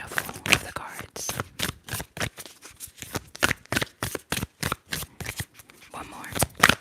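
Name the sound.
shuffling tarot cards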